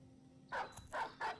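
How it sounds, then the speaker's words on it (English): Dogs bark in the medieval fantasy video game Battle Brothers, three quick sharp barks in a row, fairly faint against a quiet background. "Gotta love these dogs."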